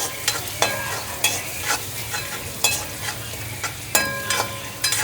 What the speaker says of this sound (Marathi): कांदे, छान आता मस्त फ्राय करून घेते.